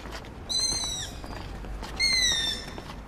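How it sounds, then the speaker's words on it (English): At night in Vienna, a young long-eared owl gives two drawn-out, high, squeaky calls that slide downward in pitch, spaced about a second and a half apart over a faint hiss. "It's a forlorn call from a secretive night bird, the long-eared owl."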